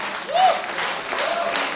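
Audience applauding at a New Year concert in a theatre, a steady broad clapping wash that swells briefly then holds at a moderate level throughout.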